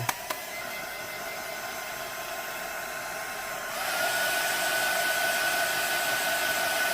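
Hair dryer blowing steadily and close while drying a paper tag bookmark, a continuous airy roar that shifts to a louder, higher setting partway through, with no talk over it.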